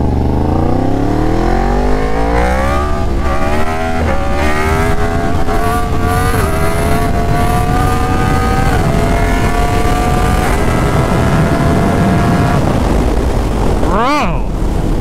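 Yamaha FZ10 motorcycle engine revving hard and loud, its pitch climbing through repeated sweeps as it is held at high revs, then a sharp rising whine near the end.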